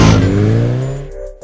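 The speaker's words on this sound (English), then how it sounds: "The exhaust note is meaty, deep-throated and quite bassy for a 150cc bike, and you open the throttle" Bajaj V15 150cc motorcycle exhaust under throttle, a loud deep bassy engine note that rises in pitch and fades within a second and a half, with no talk.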